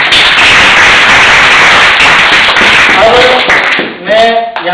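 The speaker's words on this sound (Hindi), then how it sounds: "इनकी मेहनत पर आपको एक बार तालियां जरूर बजाएंगे" Audience applause at a religious speech competition for teenagers, a dense, loud, continuous clapping that fills the room and then thins out near the end as a voice begins to speak.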